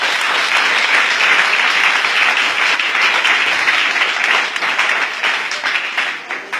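Congregation applauding in a church service, a loud dense sustained wash of many hands clapping that continues steadily throughout, close and enveloping, with no talk.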